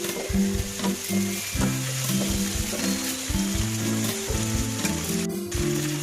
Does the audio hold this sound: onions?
yes